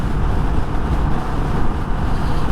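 Steady, loud wind buffeting roars through the whole clip while riding a 2021 Honda Rebel 1100 DCT motorcycle on a windy day, a dense low rush with no other distinct sounds.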